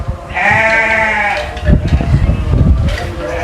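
A young lamb or goat kid bleats once in a long wavering cry on a sheep farm, followed by rustling and shuffling from the animals nearby.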